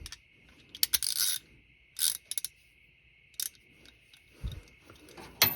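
A ratcheting wrench works a nut on a rear swaybar brace under an ND Miata. Close, loud bursts of rapid ratchet clicking come in several separate spurts with pauses between, over a steady faint hum.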